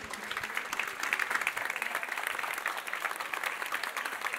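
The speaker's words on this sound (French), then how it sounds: "Merci, on les applaudit." Applause from an audience at a national science-communication final, dense steady clapping throughout, moderately loud with no talking over it.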